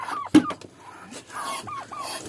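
Chickens cluck and murmur close by in a coop, several short calls and soft throaty notes scattered over a couple of seconds, with a sharp knock near the start.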